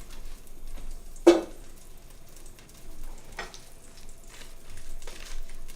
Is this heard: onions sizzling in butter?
yes